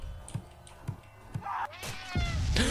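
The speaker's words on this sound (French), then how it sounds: "Oh, il y a un petit chat!" Cat meowing in the Friday the 13th Killer Puzzle video game, several short mews early, then rising, drawn-out meows near the end over a busy game soundtrack.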